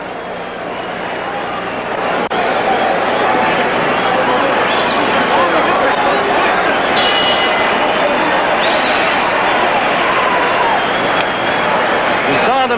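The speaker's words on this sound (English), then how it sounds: "The crowd responding to the courage of Peralta on the one hand and the" Boxing arena crowd at a George Foreman versus Gregorio Peralta fight, a steady loud roar and murmur of spectators under a commentator talking throughout.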